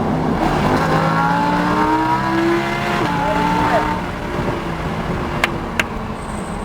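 Lamborghini Huracán accelerating hard at Pacific Raceway, a loud, rising engine roar with climbing pitch that eases off near the end, leaving fainter road noise and a couple of sharp clicks.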